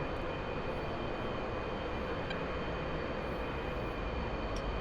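Su-30 jet with afterburners lit in the flight simulator DCS World gives a steady, dense engine roar that holds at even loudness throughout, with no voices.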